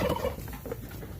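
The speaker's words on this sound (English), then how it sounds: "That's just the turkeys." Turkeys gobbling on a farm where ducks are also kept, a short burst of close, rough, rapid calls fading into quieter clucking and rustle.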